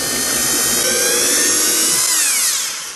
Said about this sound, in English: I'm going to have to drill this a little bit bigger and bigger and bigger